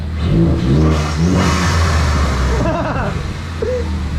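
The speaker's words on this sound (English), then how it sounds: "Give her some rev." Ford Focus ST engine revving after a full bolt-on exhaust, loud close throaty revs rising and falling, with people talking over it.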